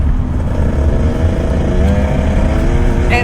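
Loud, steady engine drone of a motorcycle taking corners and gathering speed, a continuous close roar with a rising tone toward the end and no talking.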